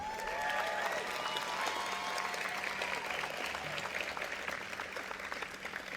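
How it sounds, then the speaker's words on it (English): A large audience at a community college commencement ceremony claps in a dense, continuous wash that holds steady for several seconds. It sounds fairly distant and soft, with a few faint voices underneath. "Let's give your faculty a round of applause."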